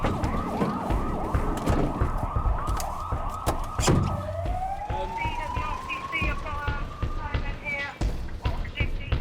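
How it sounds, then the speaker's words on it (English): Police and emergency sirens wail over a busy roadside scene in Wiltshire, rising and falling, with a steady rising whoop near the middle and voices around. "I hear some sirens now"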